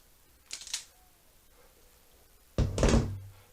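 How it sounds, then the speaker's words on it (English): Wire strippers bite and pull insulation off a wire during motorcycle wiring work: two short, sharp crimping clicks with a quiet pause between, close by, no talking. "with the wire strippers, just to expose the wire"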